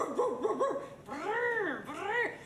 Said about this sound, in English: who would put a barking dog gif in their business presentation?